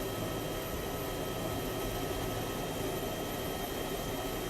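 A helicopter in the ArmA 2 DayZ game gives a steady, even engine roar and rotor noise, close and constant with no breaks.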